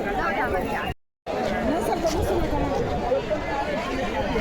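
Pilgrims crowding the Wari procession make a constant hubbub of overlapping voices. It drops out for a moment early on, then resumes at a steady level with people talking nearby.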